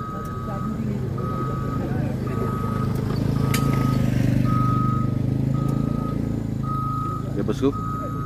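A coal truck sounds its repeating reversing alarm during a recovery operation. Regular evenly spaced beeps ring out over a loud, steady engine rumble, with voices talking in the background and occasional metallic clinks.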